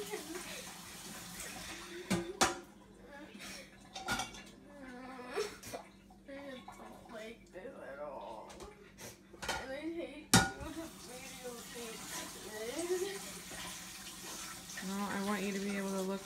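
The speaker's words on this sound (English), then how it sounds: "we wouldn't have had to take them out of the dishwasher and you rewash them" Dishes and cutlery are rewashed by hand in a sink of water, with repeated clinks, clatters and splashing close by, while a voice talks intermittently over the washing.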